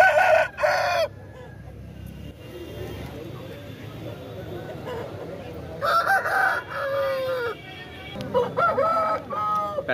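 Country chicken market on a Saturday: roosters crow loudly and hens cluck nearby under steady bargaining chatter from buyers and sellers.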